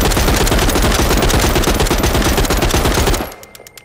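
Rapid automatic gunfire from a gun in The Walking Dead: Saints & Sinners video game, a loud, dense burst of shots lasting about three seconds before cutting off into a few faint trailing clicks.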